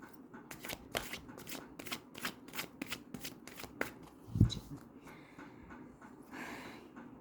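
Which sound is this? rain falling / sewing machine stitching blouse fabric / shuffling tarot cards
shuffling tarot cards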